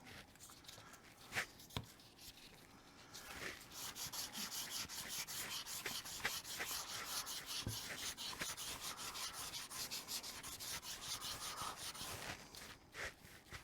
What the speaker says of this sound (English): So I'll do a little bit of wet sanding.